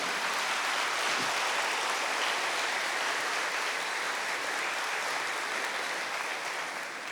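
A church congregation applauding during a sermon, a broad, even wash of many hands clapping at a distance, steady throughout with a slight fade at the end and no voices over it.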